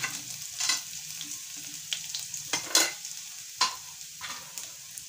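Cumin seeds, chopped ginger and garlic crackling in hot oil, a moderate sizzle broken by several sharp bursts of spitting and crackles as the spoon stirs.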